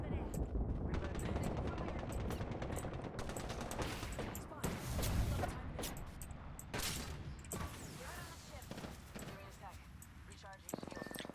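Gunfire in the video game Apex Legends, dense bursts of rapid automatic shots and impacts filling the scene, loud and close, with a voice talking over much of it.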